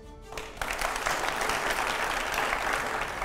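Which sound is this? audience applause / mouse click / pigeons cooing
audience applause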